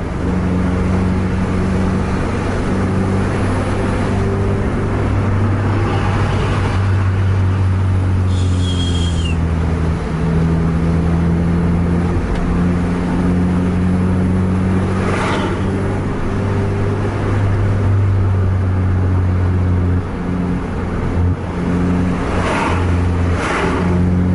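A Mercedes car pulls away hard in traffic with a loud, continuous engine roar and road rumble that runs steadily throughout, with brief passing noises from other vehicles.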